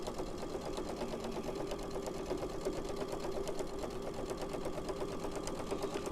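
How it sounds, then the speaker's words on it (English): A sewing machine runs steadily, stitching binding onto a quilt, its rapid even needle clatter continuous and close throughout. "And I'm sewing from an angle over here, Lauren."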